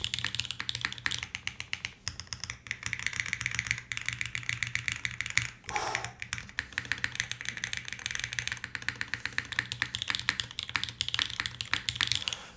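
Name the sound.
typing on Singa Kohaku keyboard with copper inserts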